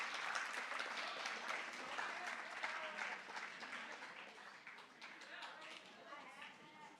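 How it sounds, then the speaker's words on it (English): Steady audience applause at a junior high school academic awards ceremony, a dense, even wash of many hands clapping throughout, moderately distant with some murmur beneath. "Give him a round of applause."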